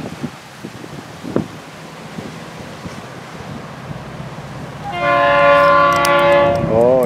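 A Florida East Coast Railway train led by diesel locomotive 427, running long hood forward, rumbles along steadily, then its loud horn blares close by for the last couple of seconds.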